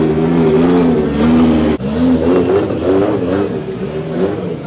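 A Toyota GT86 drift car at a French drift championship event revs hard and continuously, its engine note rising and falling in loud, close surges with a brief cut partway through.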